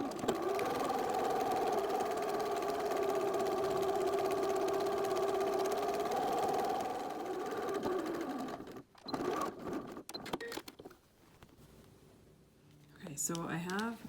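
A sewing machine runs steadily, stitching an elastic channel on a fabric snack bag; the close motor whir holds for about eight seconds, then gives way to intermittent handling clicks and rustles.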